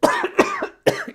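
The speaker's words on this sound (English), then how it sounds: "I feel like a cough is..." A person in a small home studio coughs three times in quick succession, close and fairly loud, the bursts separated by brief pauses.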